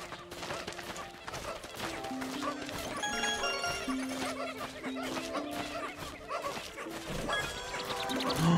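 A dog barks in Pikmin 4 amid busy game music and effects, the barks loud and close, sounding repeatedly.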